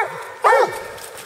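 A hunting hound puppy on a boar hunt with scent hounds gives a single sharp bark, fairly close, over a faint outdoor background with no voices.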